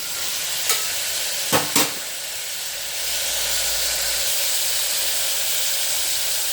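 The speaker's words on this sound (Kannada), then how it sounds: "ಹೀಗೆ ಎಣ್ಣೆಲೆ ಬಾಡಿಸ್ಕೊಳ್ಳೋದ್ರಿಂದ ಆ ಹಸಿ ವಾಸನೆ ಹೋಗಿ ತುಂಬ ರುಚಿಕರವಾಗಿ ಕೂಡ ಆಗುತ್ತೆ" Vegetables sautéing in oil in a pan for a broad bean and dill leaf masala, giving a steady close sizzle and hiss with a few brief utensil clinks near the start and no voices.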